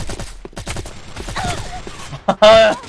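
Gunfire in the online shooter Sudden Attack: a sudden loud burst of shots near the end follows some quieter game sounds, with voices talking in the background.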